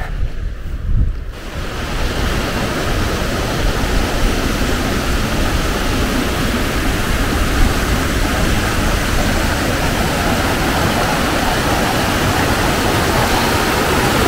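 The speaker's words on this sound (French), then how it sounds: "Déjà 3 fois en 100 mètres que je traverse le torrent." A mountain torrent in the Pyrenees rushes past close by in a loud, steady, broad roar of churning water, mixed with some wind buffeting.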